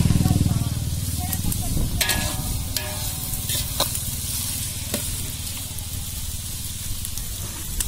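Biryani frying in a pot while being stirred, a loud constant sizzle with scraping strokes of the spoon repeating through, close up.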